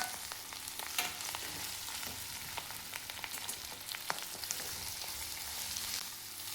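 Crushed cluster beans and green chillies fry in hot oil with a steady, close crackling sizzle and occasional sharp pops, stirred now and then, with no talking.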